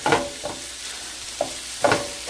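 Sausage meat frying in a grill pan, a steady soft sizzle broken by a few sharp scraping or stirring knocks, close by with no talking.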